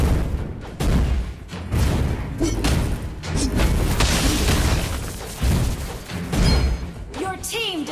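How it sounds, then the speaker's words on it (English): A turret being destroyed in the Mobile Legends video game sets off a dense run of booming thuds and explosive bursts, loud and close, mixed with game voices throughout. "Your team destroyed a turret."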